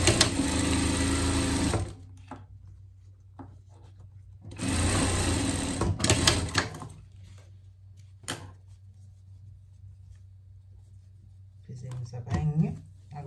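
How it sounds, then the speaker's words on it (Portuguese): A sewing machine stitches the hem of a pet sweatshirt in two loud, close bursts of rapid whirring, separated by quieter gaps where a person talks and handles the fabric. "Vamos fazer a bainha dele aqui."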